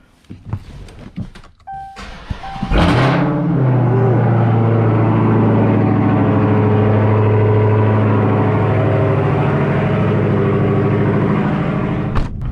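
A supercharged Dodge Hellcat V8 cranks and fires at about 3 seconds, then holds a loud, steady, close-up roar with a brief rev flare. A few faint clicks come before the start.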